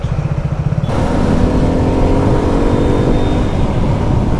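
A 2024 Suzuki Gixxer SF250 motorcycle rides in traffic, its engine droning loud and steady up close with a continuous rush of wind, and pulsing throb at the start.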